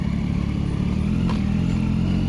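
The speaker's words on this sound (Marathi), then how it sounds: "इथनं बाईक काढायची म्हणजे यार मजाच येते मला पार्किंगमधून." A motorcycle is ridden out of a parking lot, its engine a low steady drone close by, with a brief clatter midway and no speech.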